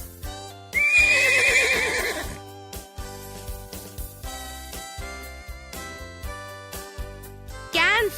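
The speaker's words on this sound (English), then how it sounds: "Horse." A horse neighs loudly in a long shrill whinny, followed by softer hoof clip-clops and light jingling with no talk.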